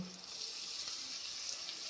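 Hot oil frying steadily in a pan as chicken pieces go in for a crispy chicken fry, a dense, even sizzle held close throughout with a soft stir near the start.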